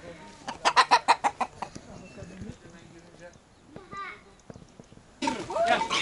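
Roosters and chickens cluck in a rapid series of loud, close calls on a village farm in Alanya, Turkey, followed by scattered softer clucks and people talking nearby.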